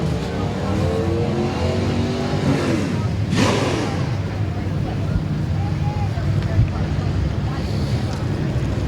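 Street stock race cars roaring around Midvale Speedway's oval in wet, blustery weather, a steady engine drone with wind buffeting the microphone and one car sweeping close past midway through.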